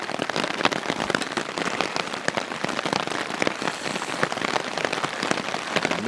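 Steady rain falls on a backpacking campsite at about 48 degrees, a dense, even patter of drops on surfaces with sharp close hits throughout, loud and continuous with no talking.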